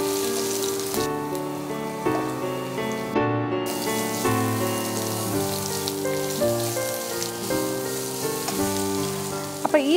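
Sliced onion fries in hot oil, a continuous crackling sizzle running steadily throughout, heard beneath tuneful background music.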